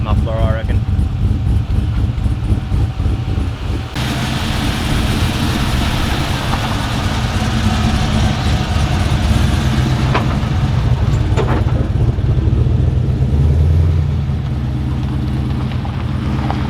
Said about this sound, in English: It does sound a lot better with that muffler